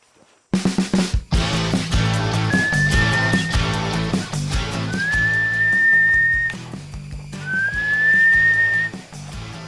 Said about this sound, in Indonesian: sudah mulai bersiul